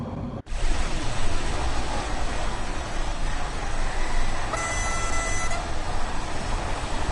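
A short horn toot from a subway-style train in the game Train Sim World 2, sounding about a second over the steady rumble and rail noise of the train climbing a grade.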